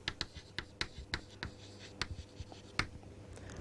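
A circuit diagram is drawn by hand with pen on paper, producing a steady series of short, close scratching strokes and taps in an irregular rhythm in a quiet room.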